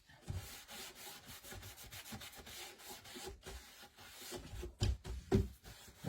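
Rough, rhythmic rubbing of sandpaper on wood, back-and-forth strokes close by, with a few harder scrapes near the end.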